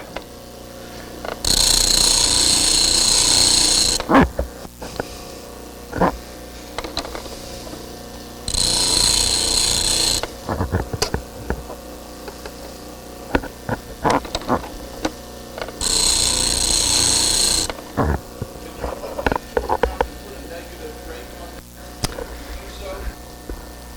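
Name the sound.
grinder grinding a chisel's sharp edge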